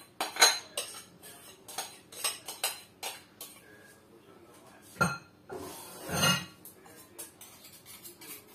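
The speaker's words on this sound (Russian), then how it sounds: "И перемешиваю массу красиво венчиком." A whisk stirs cake batter of sugar and butter in a bowl, sending out a run of quick metallic clinks and scrapes with a few louder knocks against the bowl, fairly close and with no talk.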